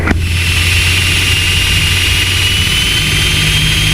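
Light aircraft engine taxiing after landing at Sandown, a loud, steady droning hum with a constant whine, heard close from inside the cabin, unbroken and with no talk over it.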